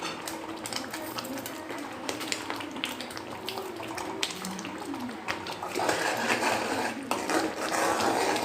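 Thick tomato thokku bubbling and spluttering in a pan, a steady close crackle with sputtering bursts that grows louder and denser toward the end, with no talk.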